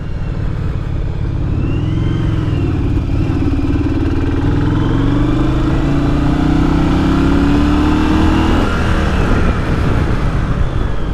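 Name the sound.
1982 Yamaha Virago motorcycle accelerating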